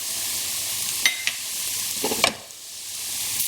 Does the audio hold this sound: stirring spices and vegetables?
yes